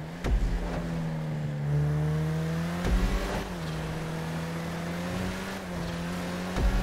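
Street racing in Grand Theft Auto V: a loud game car engine revs and whines steadily, gear changes marked by rising pitch sweeps and a few sharp shifts, with no talk over it.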